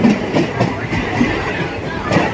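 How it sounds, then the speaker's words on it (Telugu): A Chennai-bound MMTS local train runs past alongside another moving train, a steady rumble and rattle of wheels and carriages that holds close and loud throughout, with faint voices now and then. "పక్కన వెళ్ళిపోతుంది చెన్నై లోకల్ ట్రైన్"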